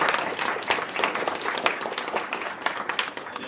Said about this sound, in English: if we could give them all a round of applause